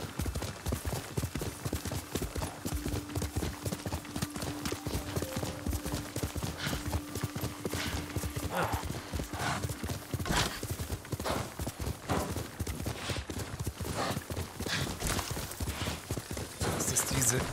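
A horse gallops in the Ghost of Tsushima video game, its rapid hoofbeats drumming in a steady rhythm throughout, with faint game sounds in the background.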